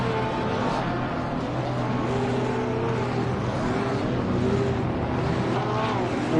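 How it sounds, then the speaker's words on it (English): A race car in Assetto Corsa Competizione holds power brake stands at Spa, engine revving hard in sustained loud surges with wavering pitch and rear tyres screeching, other engines droning close by. "instead I end up doing some power brake stands"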